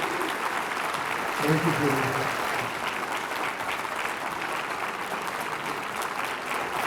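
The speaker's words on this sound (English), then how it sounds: "Let's please give all of these candidates a fine round of applause for their participation tonight" An audience at a Queensbury candidates' forum gives a steady round of applause, with a brief spoken thanks heard over the clapping.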